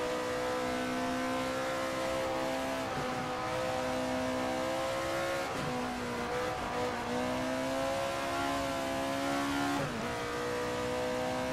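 Ford Capri racing car in Assetto Corsa, engine droning steadily at high revs with brief dips around gear changes, loud and close throughout with no talk.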